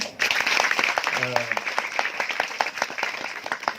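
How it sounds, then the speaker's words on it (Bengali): An audience at an ISKCON devotional lecture in Dhanbad claps in an uneven, steady patter of many hands that lasts throughout, with a voice briefly audible underneath. "সবাই তালি বাজাও জোর করে"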